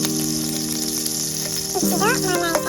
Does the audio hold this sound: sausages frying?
yes